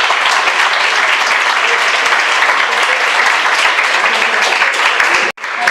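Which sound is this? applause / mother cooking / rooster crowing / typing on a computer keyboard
applause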